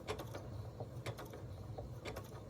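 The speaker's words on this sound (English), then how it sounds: "I carefully press on the foot pedal and watch it sew from side to side." A sewing machine sews a button on with a side-to-side stitch, giving quiet, soft, repeated mechanical clicking and whirring at a steady rhythm, faint and close.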